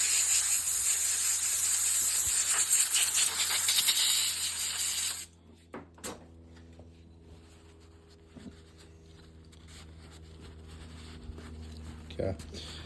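Compressed air hisses loudly up close as it blows off a freshly cleaned small-engine carburetor, one long blast that cuts off abruptly and leaves a quiet room with a few light knocks.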